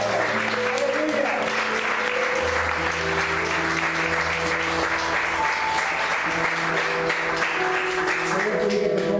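A church congregation claps as an offering of praise, with steady, continuous applause and a faint voice and hum underneath.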